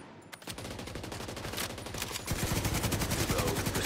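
A player in The Division 2 fires gunfire that begins after a short quiet lead-in, with rapid repeated shots forming a dense burst that gets louder and heavier partway through.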